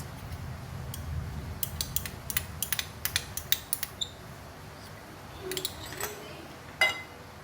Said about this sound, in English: we're going to mix all these ingredients: light soy sauce, oyster sauce